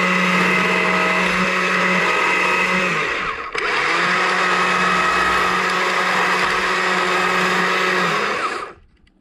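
A chainsaw cuts into wood while carving a small bear, droning loudly and steadily up close, with one brief dip partway through before the saw winds down at the end.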